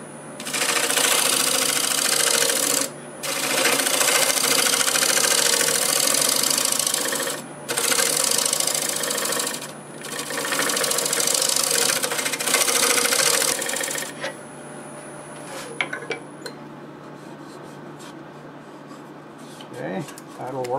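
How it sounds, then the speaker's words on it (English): A negative rake scraper cutting a plum crotch bowl on a wood lathe, loud buzzing scraping passes broken by short pauses, then quieter spinning and light tool taps near the end. "Go ahead and go over what I just cut with the negative rake scraper"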